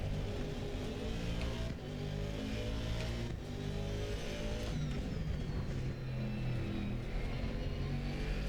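A Ferrari race car engine drones steadily in a racing video game, a continuous buzzing whine with shifting revs and gear changes, other cars audible close by.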